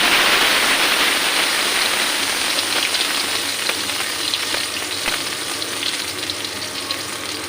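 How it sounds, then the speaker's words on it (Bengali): Dried red chilies and 4-5 crushed garlic cloves fry in a little oil in a wok, a loud continuous sizzle with scattered crackles and pops, no voices. "কড়াইতে দিয়ে দিয়েছি সামান্য পরিমাণ তেল আর শুকনো লঙ্কা আর 4-5 কোয়া রসুন আমি থেতো করে নিয়েছি"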